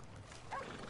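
Horse hooves clip-clop and a brief whinny rings out in Red Dead Online, a short, moderately quiet burst over steady game ambience with no talking.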